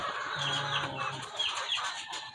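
Chickens cluck on a small backyard poultry farm, several birds calling close by in short, overlapping clucks over a steady farmyard hum.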